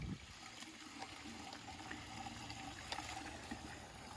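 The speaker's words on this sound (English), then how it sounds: "So we're filling water up for our rabbits." Water is poured to fill a rabbit water container on a small farm, giving a quiet, continuous trickling and splashing that runs steadily throughout.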